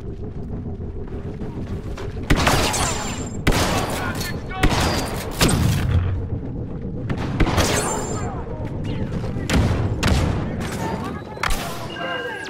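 Bursts of gunfire and blaster fire in the Star Wars Battlefront II video game: repeated loud volleys in rapid clusters with booming impacts, close and continuous, mixed with in-game voices calling out.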